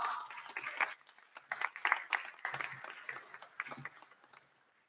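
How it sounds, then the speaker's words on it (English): A crowd at a graduation ceremony claps together in a dense burst of applause that swells, then tapers off and fades out near the end. "Give yourself a round of applause."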